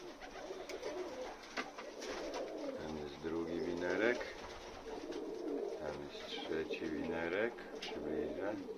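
Young pigeons cooing at a new pigeon loft, repeated low throaty coos rolling in close and fairly loud, with someone talking over parts of it.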